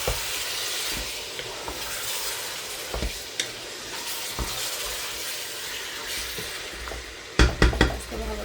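Biryani masala stirred and sautéed in a pan, a steady close sizzle with scattered spoon scrapes and taps, ending in a cluster of louder metallic knocks against the pan.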